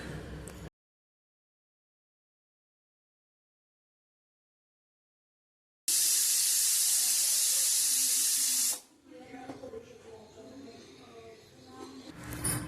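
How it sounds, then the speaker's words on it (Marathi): Pressure cooker venting steam while chicken curry cooks, a loud, steady broadband hiss lasting a few seconds after a long silent gap, then cutting off into quieter kitchen background. "कुकरच्या दोन शिट्ट्या झाल्यानंतर भाजी कढईमध्ये काढून त्याला एक उकळी काढून घ्यायची"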